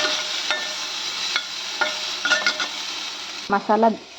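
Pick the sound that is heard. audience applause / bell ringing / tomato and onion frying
tomato and onion frying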